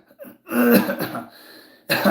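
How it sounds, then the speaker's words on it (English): A person coughs a few times in a home setting, a short sputtering cough followed by a harsher burst with some throat clearing, loud and close with no other talk. "Apologize for the coughing."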